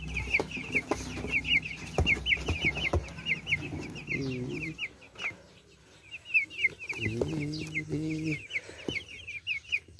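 Chicks about eight days old peep in repeated bright, rapid bursts inside a cage, with louder clucking and brief low calls from nearby chickens mixed in; the chirping is close and fairly busy, briefly thinning in the middle.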